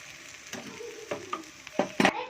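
Onion uttapam fries in oil on a pan, giving a quiet sizzle broken by several sharp scraping and stirring knocks that grow louder toward the end.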